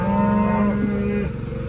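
A single long, low cow moo held steady for over a second, loud and close, then trailing off.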